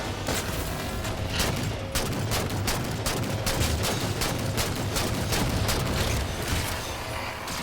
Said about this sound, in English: I got one of those naffing great bloody turret guns up here.